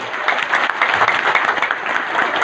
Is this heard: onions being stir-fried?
no